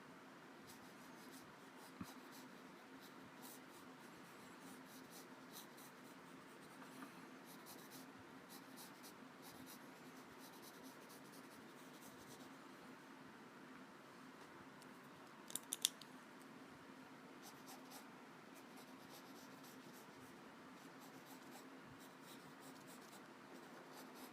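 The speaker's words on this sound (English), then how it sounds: "It's the Uni Kuratoga .3 HB lead mechanical pencil." A Uni Kuru Toga 0.3 mm mechanical pencil with HB lead sketches on post-it notes, giving a close, quiet, continuous scratchy scribble with brief taps and strokes, almost no talking.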